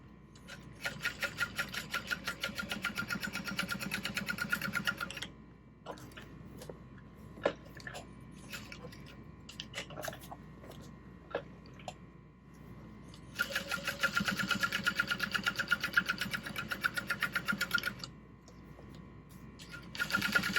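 Sewing machine topstitching a tote bag seam, two fast rattling runs of stitching separated by a pause with small clicks and handling of fabric, close and fairly loud.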